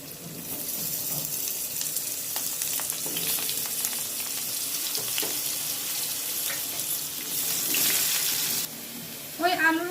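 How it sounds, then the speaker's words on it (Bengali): Steady crackling sizzle of potatoes frying in hot oil in a kadai runs throughout, with occasional clinks and a brief higher scraping sound near the end. "কড়াইতে তেল দিয়েছি ডুমুর আর আলু আমি ভেজে নেব"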